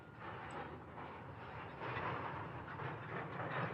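Freight train running on the Montana High Line route in a train simulator video game, a steady broadband rail rumble with wheel and car noise rising slightly partway through, continuous and fairly close, with no talking.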